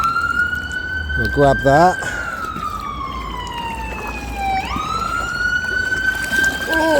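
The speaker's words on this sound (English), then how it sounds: "Oh, sorry about that siren" An ambulance siren sounds beside an ambulance station outdoors, a loud sustained wail that glides down and back up with a short rapid yelp burst near the start, while someone speaks briefly.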